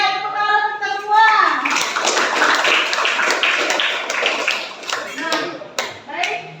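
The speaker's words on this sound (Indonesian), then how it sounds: "Oke, tepuk tangan kita semua." A class of children in a classroom applauds together, a burst of close, lively hand clapping that continues for several seconds and thins into scattered claps, with a teacher's voice heard at the start.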